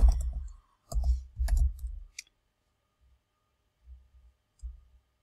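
Typing on a computer keyboard, a few short bursts of clicking keystrokes close up, separated by pauses of silence, with a quieter scattered pair of taps toward the end.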